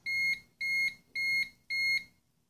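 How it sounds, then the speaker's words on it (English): Four evenly spaced electronic beeps from a Stack-On biometric safe lock being reset, each about a quarter second long, sound close and clear in a steady rhythm. "Press this button for about 5 seconds until there are 10 beeps and 10 flashes of green light."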